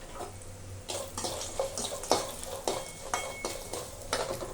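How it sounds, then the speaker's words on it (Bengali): Masoor-dal lentil badi fry in a hot kadai (wok), a soft sizzle broken by repeated sharp scrapes and clinks of a spoon stirring against the pan, fairly close and with no talking. "কয়েকটা বড়ি ভেজে নেব।"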